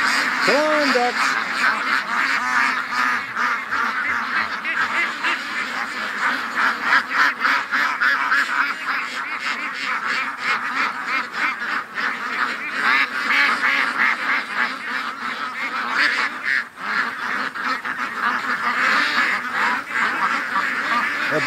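Ducks held in a wire pen give a dense, continuous chorus of honking quacks that runs through the whole stretch, loud and close. A voice talks over the flock now and then.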